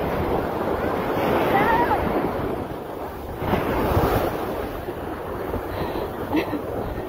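Ocean waves washing onto a beach, a broad rushing surf noise with gusts of wind buffeting the microphone, swelling and easing in level, while people talk nearby.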